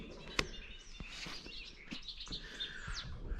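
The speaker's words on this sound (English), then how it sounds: "Birds are chirping away." Birds chirp outdoors in the morning at a building site, scattered quick tweets and calls, fairly faint and spread across the quiet air.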